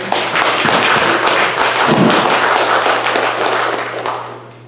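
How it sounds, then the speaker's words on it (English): A church congregation applauds together at a Flower Communion Sunday service, producing dense, steady clapping that holds loud for about four seconds and then fades away. "a round of applause"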